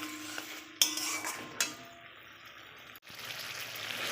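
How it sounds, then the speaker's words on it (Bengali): Spice paste being cooked down in a pan with a splash of water and a little sugar, heard as quiet metal utensil clinks and scrapes against the pan, with a few sharper knocks and no voices. "এবারে দেখো একটু ওই বাটি ধোয়া জল দেব, দিয়ে মশলাটা একটু কষিয়ে নেব।"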